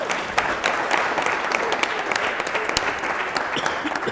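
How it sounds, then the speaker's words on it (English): Guests at a wedding held at Aston Marina applaud the venue and its organiser, a close, loud, steady patter of many hands clapping with sharp individual claps standing out. "let's have a round of applause for Aston Marina and Leigh-Anne"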